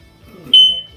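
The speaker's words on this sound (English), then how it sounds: "I'm going to check the smoke detector." A smoke detector being tested during a building inspection lets out a single sharp, high-pitched beep midway, close and loud against a quiet background.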